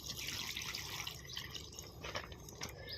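Water poured onto potted garden flowers, a continuous close trickle and splash of liquid with scattered drips, steady throughout with no speech.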